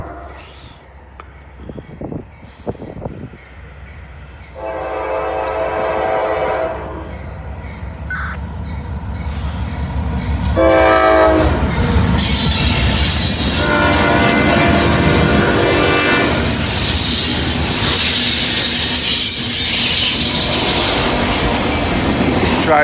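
A southbound mixed manifest freight train approaches and passes near the tracks, with loud blasts of its horn, rumbling and clattering railcars and squealing wheels building to a sustained roar.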